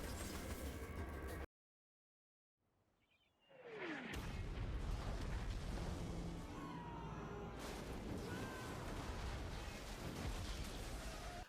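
A warship blowing up in Saints Row 3, a dense rumbling roar of explosions after a brief drop to silence, then sustained heavy booming and crashing debris that stays loud to the end.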